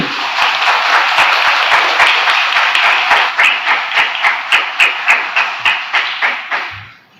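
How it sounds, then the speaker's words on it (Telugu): An indoor church audience claps during a festival novena sermon, a sustained burst of applause that thins into distinct, evenly spaced single claps before stopping. "మా తెలంగాణలో బాగుంటే చప్పట్లు కొడతారండి."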